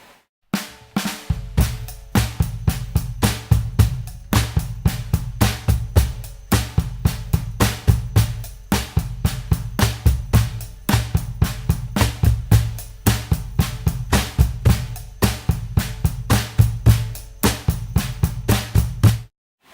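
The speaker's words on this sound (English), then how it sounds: "When the cajon and drum set parts are put together, they sound like this." A cajon and drum kit play together in a steady groove, with deep bass thumps and crisp slaps and hits repeating in a tight, even rhythm.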